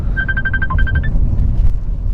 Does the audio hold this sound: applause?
no